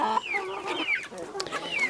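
Several large chickens, hens among them, cluck and squawk close by in overlapping bursts, loud and busy with no one talking.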